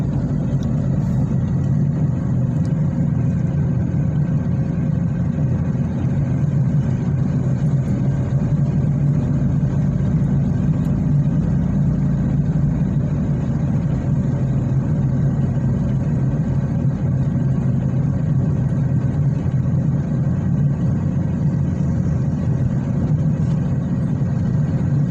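A car drives uphill on a multi-lane road, its engine giving a steady low rumble with road noise that carries unbroken for the whole stretch, near and fairly loud, with no one talking.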